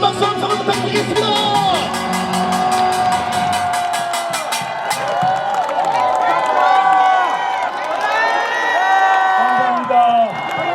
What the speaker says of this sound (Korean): 김문수 대통령 다시 한번 힘찬 박수 한번 부탁드리겠습니다